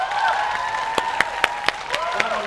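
Scattered hand claps from a studio audience greet the band at a televised singing contest, several sharp separate claps over a sustained musical tone rather than full applause.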